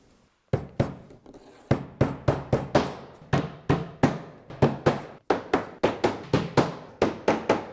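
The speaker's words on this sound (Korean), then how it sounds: "자 그러면 봉봉된 이 작은 못으로 테두리에 박아줍니다." Small nails are driven into the border of a wooden work table frame, with about twenty sharp hammer blows in quick groups of two to four, each ringing briefly, close and loud with short pauses between.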